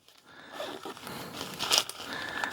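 A small plastic bag handled during a DJI Mic 3 unboxing, giving faint, soft crinkling and rustling that swells briefly near the middle of the short stretch.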